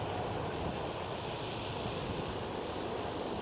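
A KLM Boeing 787-10 departs Schiphol, heard as a steady, broad roar with a wind-like wash. It holds fairly constant at moderate distance throughout, with no talking.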